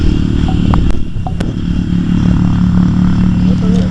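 A model jet turbine engine runs nearby with a loud, steady, tonal whine over a rough low rumble, and brief clicks and crackles come through early on.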